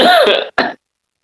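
An old man coughs twice in quick succession, loud and close, with a harsh throaty first cough followed by a shorter second one, then silence.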